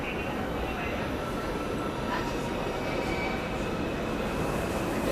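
A New York W subway train runs steadily with continuous rumbling wheel and car noise, a faint squeal rising now and then and the low murmur of voices under it.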